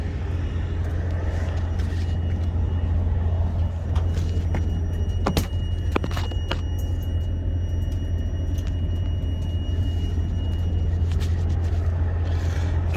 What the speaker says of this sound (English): Can y'all hear that high-pitched whine?